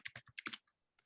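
Code being typed on a computer keyboard: a quick, faint burst of about six close keystroke clicks, then a short pause and one last soft tap.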